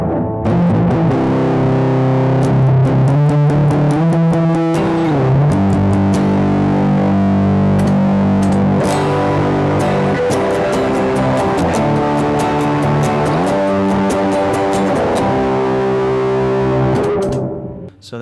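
An electric guitar plays through a fuzz pedal on a pedalboard, a steady, thick, distorted stream of sustained chords and single notes running unbroken for the full length, loud and close with no talking.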